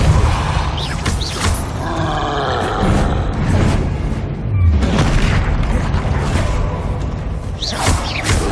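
Spells cast in the Hogwarts Legacy video game, a loud continuous mix of booming impacts, whooshes and roaring effects layered under game music, with a voice shouting spell names.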